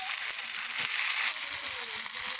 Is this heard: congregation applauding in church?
no